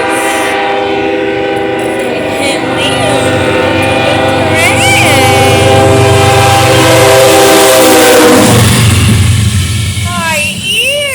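A BNSF oil tanker freight train thunders past close by, a loud, steady rumble of rolling cars with blasts of the horn, and someone talks over the roar.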